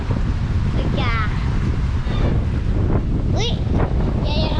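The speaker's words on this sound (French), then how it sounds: "Ouais, il y a vraiment beaucoup de rafales" Strong, constant wind gusts roar over a boat near Halifax, with rough water beneath. Short bursts of talk and shouts break through the blustery rush.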